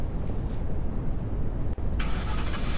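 Ram pickup truck engine starting in a video game, a short cranking burst that settles into a loud, close idle rumble with a brief dip partway through.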